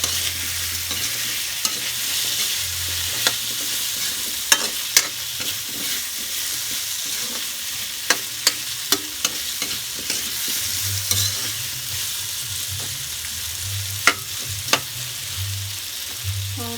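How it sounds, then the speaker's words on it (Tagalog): Potatoes and carrots sizzling in a pan, a steady crackling fry punctuated by sharp clicks and scrapes of stirring, with low rumbling thuds underneath and no talk. "antayin nyo lang na medyo ma-fry yung patatas at saka yung carrots."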